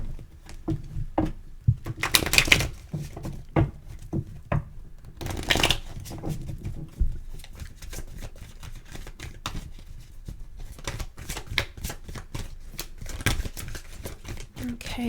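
A tarot card deck is shuffled close by in bursts of riffling and sliding cards, with lighter handling taps between the bursts and no speech.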